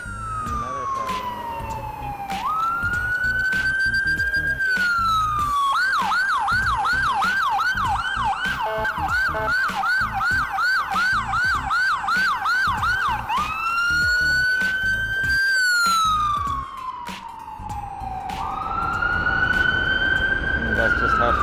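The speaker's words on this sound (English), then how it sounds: "Another siren." A loud emergency siren wails nearby on a Toronto street, sweeping up and down, then shifts into a rapid warbling yelp before returning to the slow wail.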